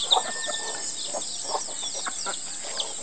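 Soft clucking and chirpy calls from hens with newly hatched chicks, scattered and fairly faint, over a steady high electrical hum.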